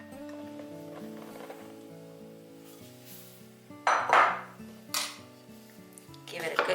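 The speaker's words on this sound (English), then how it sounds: "Give it a good mix." Dry flour being stirred into a foamy yeast mixture in a bowl, with a spoon clinking and scraping against the side in a few sharp knocks over a steady background of music-like tones.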